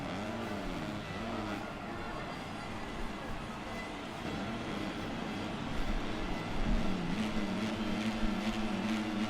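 Motocross bike engines in the video game MXGP 2019 drone in a steady, continuous buzzing whine that swells slightly toward the end, with no talking.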